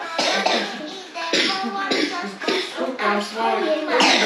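A young girl coughs repeatedly indoors, a series of close, harsh bursts spaced roughly every half second with rustling and shuffling between them.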